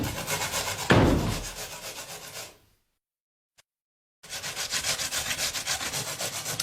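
A carrot being grated by hand in a wartime-style kitchen, rhythmic close scraping strokes in two runs separated by a short silent gap, with no talking.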